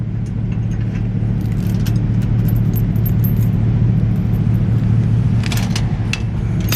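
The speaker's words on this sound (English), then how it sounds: "I definitely got to do something about the chain because it is making a whole lot of noise" A chain drags and rattles under a moving vehicle on a driveway job, a continuous loud clattering scrape over a low engine rumble, with metallic jangles sharpening near the end.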